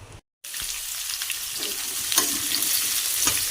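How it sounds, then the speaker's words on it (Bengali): Papaya and potato fry in hot oil with black cumin, a close, steady sizzle that starts after a brief silence at the opening and runs on with soft stirring scrapes. "এখানে পেঁপে আলুটা চাপাচ্ছি কালো জিরে দিয়ে"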